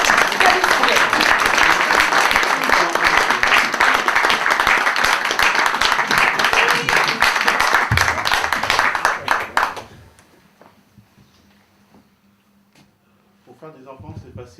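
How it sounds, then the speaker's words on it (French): An audience at a poetry slam competition in Granville applauds a poet, loud sustained clapping for about ten seconds that then stops abruptly, followed by quiet and a voice starting to speak. "je vous demande un triomphe d'applaudissements pour notre poète rose Gabi sans elle."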